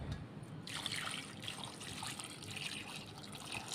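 Water pours steadily into a cooking pot holding jaggery and jujube berries, a soft continuous trickle close by, fairly quiet, with no talk over it.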